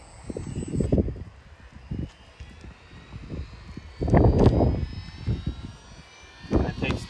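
A stunt motorcycle toy's remote-activated flywheel winding up, a rising whine under a low rumble with several louder surges, close by and alone without talk.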